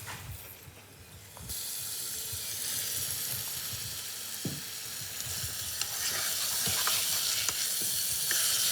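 Artichoke frying in a pan of olive oil with softened garlic and onion, a steady close sizzle that swells and crackles louder as the pieces go in, with occasional stirring clatter.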